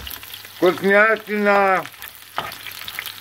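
Turkish manti, small dumplings filled with minced meat, fry in hot oil with a soft, steady sizzle that runs under a person speaking close by.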